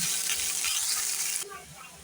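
Onion and garlic fry in a pan with a steady, close hiss and crackle of sizzling that drops abruptly to a quieter simmer partway through; no one speaks.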